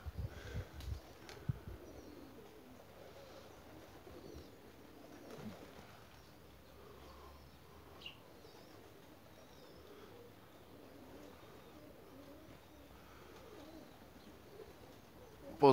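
Racing pigeons cooing softly and intermittently in a quiet loft setting, faint and somewhat distant, with a few light bumps and rustles.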